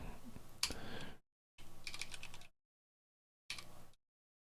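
Typing on a computer keyboard at a desk, three short bursts of rapid key clicks separated by silent gaps, close and fairly quiet.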